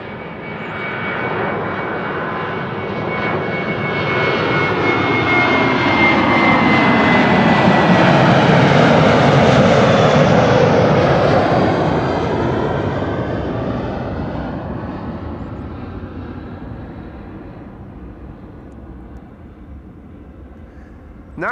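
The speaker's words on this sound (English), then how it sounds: "This is KLM flight 1753 to Hamburg." A KLM jet airliner departs Amsterdam Schiphol Airport, its engines swelling into a loud, broad roar that peaks midway and then slowly fades as the aircraft moves off into the distance.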